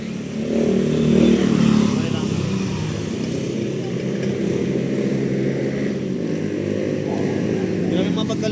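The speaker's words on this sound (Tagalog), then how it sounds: "May bitaw ba yung motor mo?" Motorcycle engine revving nearby, a loud droning rumble that swells early and then holds a steady idle, with people talking over it.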